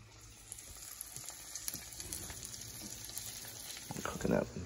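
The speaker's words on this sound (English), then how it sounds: "Lay it down in there nice, let it sizzle." Quiet frying hiss of flounder in a pan with butter, soft and steady, swelling slightly louder near the end.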